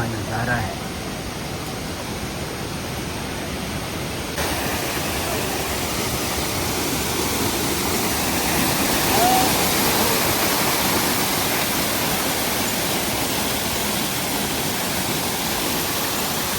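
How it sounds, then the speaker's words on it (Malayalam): Waterfall on the Kedarnath trek to the temple, a steady broadband rush of falling water filling the scene at constant loudness, fairly close, with no voices over it. "ഇപ്പോൾ ഒരു വെള്ളച്ചാട്ടമുണ്ട്."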